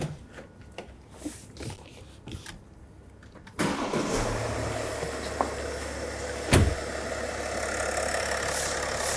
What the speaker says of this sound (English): we'll start the vehicle up and start collecting data